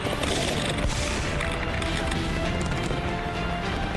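Dense, continuous crackling bursts of fireworks, heavy and rapid, blending into a constant loud roar without pause.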